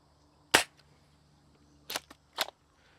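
A 3D-printed Nerf hand cannon fires Dart Zone bamboo darts, giving three sharp, close pops: one, then a pause, then two more in quick succession over a quiet background.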